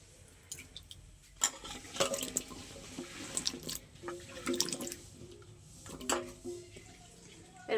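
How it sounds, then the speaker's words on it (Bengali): Water poured into a wok, to be heated for boiling cut yam and potato, heard as quiet splashing and trickling in uneven bursts with a few drips and light clinks. "কড়াই এবার জল দিয়ে দেবো"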